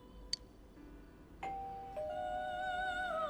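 A doorbell rings in the Persona 4 Golden video game, a soft chime with two ringing tones that sustain and layer over a faint background, preceded by a brief click.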